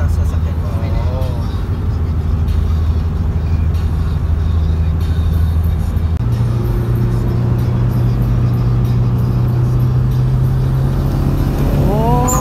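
Steady engine drone from a Mitsubishi Evo IV driving fast on the SLEX expressway during a breakfast run, the pitch holding level then stepping up as it climbs through a gear, with people talking inside the cabin.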